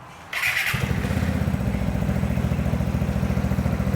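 A Vespa GTS scooter engine with an aftermarket Akrapovic exhaust starts and settles into a steady, throbbing idle, moderately loud and close, with a buzzy, pulsing exhaust note.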